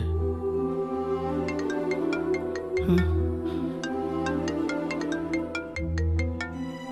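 A mobile phone rings with an incoming call: a repeating electronic ringtone melody with steady bright chiming notes, loud and close, lasting several seconds with no talk.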